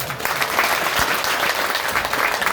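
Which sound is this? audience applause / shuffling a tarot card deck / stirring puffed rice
audience applause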